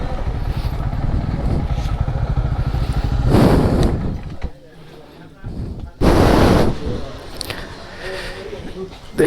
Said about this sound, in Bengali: বাইকটা টেনে রাখি।